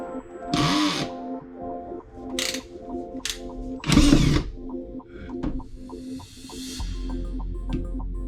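A power drill runs in short bursts during a camper van build with linoleum flooring, near and loud, with a steady mechanical hum underneath and a rougher grinding stretch near the end.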